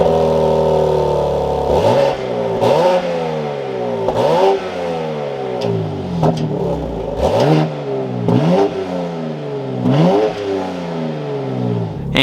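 2024 BMW X3 M Competition engine revving hard in repeated blips, each climbing then falling, loud and close with a steady idle between pulls.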